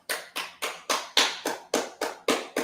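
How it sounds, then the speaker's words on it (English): People clap their hands in an even, rhythmic beat, about ten sharp, close claps. "Go ahead, let's clap it up."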